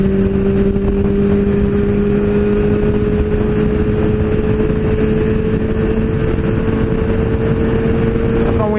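Two motorcycles, a Honda Hornet and a Kawasaki Z800, approach with a steady engine drone and a sustained tone that grows slightly, loud and close, with no speech.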